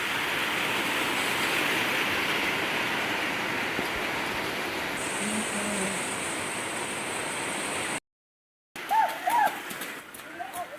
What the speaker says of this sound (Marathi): पाऊस जोरात दिलेला अगं जोरात दिलेला पाऊस